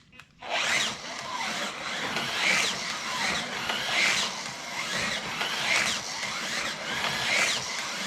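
An HO slot car speeds around a Scalextric track, its small motor giving a loud, continuous whirring buzz that swells and fades in a regular rhythm as it completes repeated laps close by.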